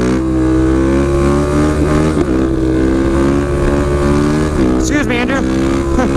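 A Suzuki DRZ supermoto motorcycle engine revs loudly up close, its harmonic drone rising and falling in pitch with several throttle blips and surging rev changes, while people talk over it.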